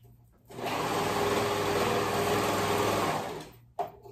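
A sewing machine runs in one steady, fast burst of stitching along a dress shoulder seam for about three seconds, with a short clack after it stops.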